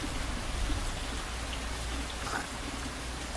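Light drizzle patters in a soft, steady hiss, a close and even wash of fine rain with no voices.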